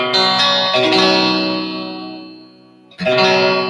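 Distorted electric guitar chords ring out with a thick, gritty tone and sustained decay, then a new chord strikes near the end; loud and close.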